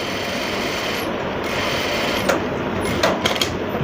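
A Juki DDL-8700A-7 industrial sewing machine runs slowly with a steady, soft mechanical whir and a few faint clicks, close by and without speech.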